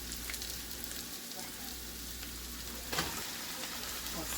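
Hamburger meat and caramelized onions sizzle and crackle steadily in a hot pan for homemade lasagna, a close continuous frying hiss with a brief louder burst partway through.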